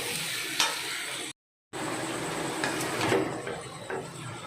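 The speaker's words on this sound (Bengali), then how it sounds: "পোস্ত বাটাটা দিয়েও কিন্তু আমি একটু কষবো।" Poppy seed paste and potatoes are stir-fried in a pan, giving a close sizzle with scraping spatula strokes, cut by a brief silent gap partway through.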